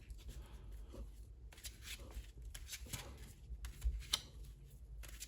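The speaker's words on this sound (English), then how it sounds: "So we're going to shuffle this up." A deck of Yu-Gi-Oh cards is shuffled by hand, giving soft, rapid papery riffles and slides in uneven bursts, close but faint in a quiet room.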